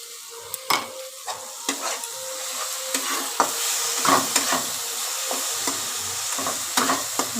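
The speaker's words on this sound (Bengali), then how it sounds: "একটু ভালো করে কষিয়ে নিই" Spices for a sesame fish curry sauté in a hot pan: a steady sizzle broken by repeated sharp clicks and scrapes from stirring, close by and with no talking.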